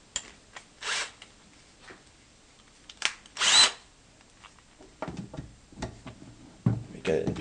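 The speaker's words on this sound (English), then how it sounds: "I'm going to take my Milwaukee Power Plus. It's around" A Milwaukee Power Plus drill runs at about 1,200 RPM in short bursts, sharp whirring spurts between quieter rustling and handling sounds, close by.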